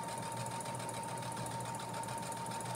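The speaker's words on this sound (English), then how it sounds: "I'm actually sewing upside down" A sewing machine runs continuously while stitching a dress seam, giving a steady, even mechanical whir with no pauses.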